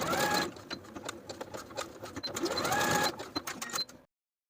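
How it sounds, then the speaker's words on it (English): A sewing machine stitches back and forth across the overlapped short ends of a band of elastic, its needle rattling in a fast, busy whir with small changes in speed before it abruptly stops. "Overlap the short ends by 1/2 inch and stitch back and forth to secure."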